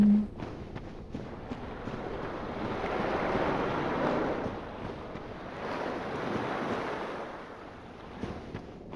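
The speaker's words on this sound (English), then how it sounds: "I hear waves." Ocean waves wash in a game area of Dark Souls: Remastered, a broad steady surf swelling and fading in two slow surges with a wind-like hiss, no talk.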